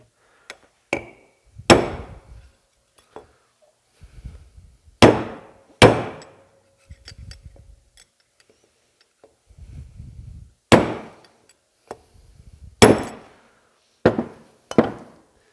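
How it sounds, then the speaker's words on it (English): A hammer bangs a loose part back out of a Bendix fan clutch on a Kenworth KW900 truck, about a dozen sharp metallic strikes spaced irregularly and close by. "we're going to have to bang that back out"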